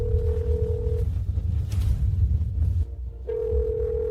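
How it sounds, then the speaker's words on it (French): A telephone rings with a steady electronic tone that starts, breaks off for about two seconds, then returns, over low background rumble, with no one speaking. "Léa, réponds au téléphone."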